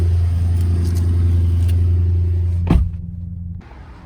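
A car engine idles with a deep, loud rumble, then a thump and the engine dies down, leaving quieter background noise.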